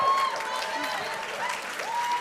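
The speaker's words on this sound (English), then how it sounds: "Give them a round of applause" An audience applauds to welcome mentors onto a stage at a psychology seminar session: a steady, dense wash of clapping lasting a couple of seconds, with a sustained tone and some voice-like sound mixed in.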